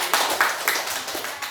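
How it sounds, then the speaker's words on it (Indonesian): Brief burst of classroom applause for a group, a ragged run of hand claps at moderate distance, fairly quiet and short. "sekali lagi tepuk tangan untuk kelompok"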